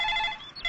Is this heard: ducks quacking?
no